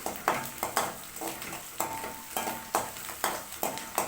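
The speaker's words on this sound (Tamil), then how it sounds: "வெங்காயமும் பூண்டும் ரெண்டும் வந்து எண்ணெயில் போட்டுக்கலாம்" Small onions and garlic fry quietly in oil while being stirred, with a soft sizzle under regular scraping strokes of a utensil against the pan.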